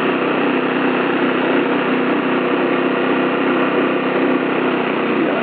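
Vehicle engine idles in a parking spot outside a mosque, a loud, steady, even drone held unchanged throughout with no talking.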